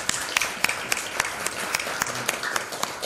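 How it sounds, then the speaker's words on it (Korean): A church congregation at a Sunday service gives a round of encouraging applause, steady crisp claps from many hands at moderate volume, carrying on evenly for several seconds. "격려의 박수 한번 드리도록 하고"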